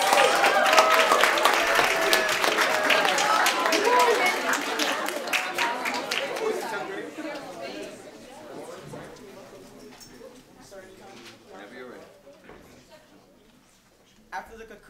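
A live audience at a poetry recitation competition claps loudly for an entertainer, dense applause for about seven seconds that thins out and fades to scattered claps and room noise.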